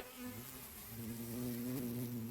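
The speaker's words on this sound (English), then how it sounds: "Oh no! It's bees." A swarm of bees buzzes in the video game Hold These Death Flags, a steady droning hum that holds throughout and swells slightly toward the end, with no talk over it.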